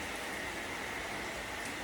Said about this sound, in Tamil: இங்கே வந்து செம்மையாக மழை பெஞ்சிட்டு இருக்கு